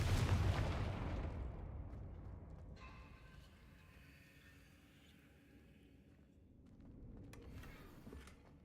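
The Confringo blasting spell in the Hogwarts Legacy video game sets off a deep, booming explosion that fades into a low rumble, followed by a fainter second burst.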